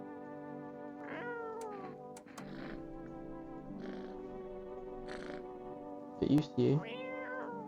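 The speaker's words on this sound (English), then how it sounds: "Let's pet the cat." A cat meows several times in the video game I'm Not A Human while being petted, short rising and falling mews over a steady background tone, with a player's voice speaking briefly.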